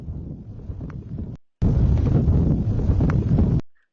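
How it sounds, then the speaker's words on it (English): A volcanic explosion roars as dense, rumbling low-frequency noise, briefly cut off before returning louder and sustained for about two seconds, then fading out abruptly. "as the volume of the volcano explosion sound increases"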